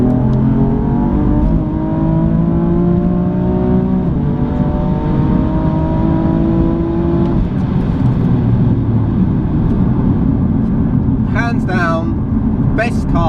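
A 510 bhp BMW M4 Competition engine revs hard while driving, pitch climbing through several gears in loud close sweeps with brief shift dips, under someone talking.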